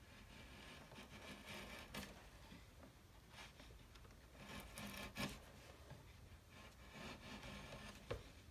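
A Narex bevel edge chisel pares across softwood face grain, making faint, repeated rasping and shaving strokes with occasional small knocks, close and quiet.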